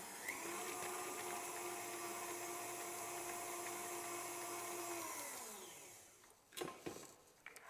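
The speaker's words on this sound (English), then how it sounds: "We're just going to break them into the mixer, mix in between each one." An electric mixer beats eggs into Victoria sponge batter with a steady, loud motor whine that winds down and stops near the end, followed by a few knocks and clatters.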